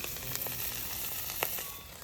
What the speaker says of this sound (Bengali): মাছটা ভাজা হয়ে গেছে